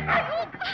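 A dog in a film scene gives a quick pair of high, yipping barks that end in a slight whine, close and loud over a brief moment.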